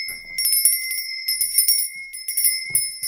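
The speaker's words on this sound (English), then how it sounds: "I'm going to be ringing my lady bell" A small hand bell rings repeatedly in quick bursts of bright metallic jingling, close by, with brief pauses between shakes.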